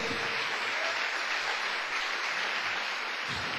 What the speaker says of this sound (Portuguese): Quantos podem dar uma salva de palmas para o Senhor?